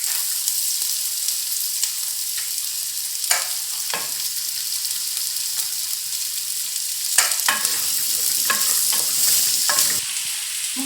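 Onions fry in a pan for Kerala-style chicken kabsa, a loud, steady sizzle close by with occasional stirring scrapes and clacks of a utensil against the pan.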